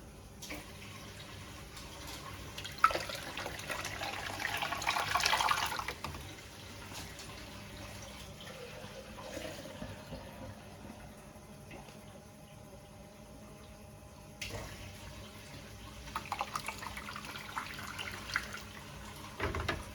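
Warm tap water running from a faucet onto bottled sweet sparkling cider, a steady soft splashing and trickling stream, fuller at times, close by with no talking.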